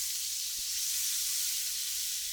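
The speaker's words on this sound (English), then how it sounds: "we're going to melt our butter." Four tablespoons of butter melt in a pan ahead of a roux for Swedish meatballs, producing a steady, soft, high sizzling hiss that runs without a break and stays fairly faint, with no talk.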